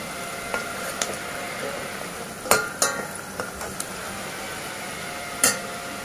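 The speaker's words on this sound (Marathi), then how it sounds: "तेलात छानपैकी हा मसाला जो आहे तो फ्राय करून घ्यायचा." Masala frying in oil in a pan for a Maharashtrian mutton curry gives a steady low sizzle. Occasional sharp spatula clinks and scrapes sound close by, with no talking.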